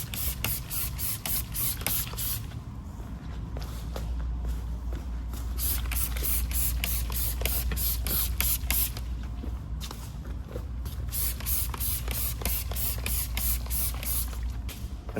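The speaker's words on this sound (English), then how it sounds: "Spray them down." Repeated short bursts of spray hiss in quick succession, close by, as liquid is sprayed onto a Honda Fit's wheels, with brief pauses between groups of pumps.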